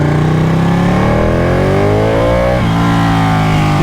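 Loud, close Ducati Panigale 1199 twin-cylinder engine revving, pitch climbing steadily then dropping back as the throttle eases, with no talk.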